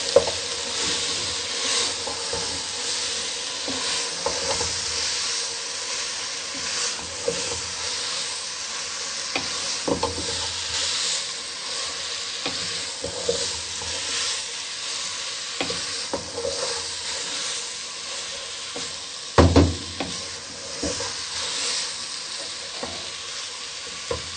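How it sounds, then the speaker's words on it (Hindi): Grated turnip frying in a pan sizzles steadily and up close while a spoon stirs it, with occasional scrapes and clanks against the pan, including a louder knock near the end. "अब हमने जो शलजम काट के रखी हुई है, इसको कद्दूकश की हुई है, इसको डालेंगे। इसको हम मिक्स करेंगे।"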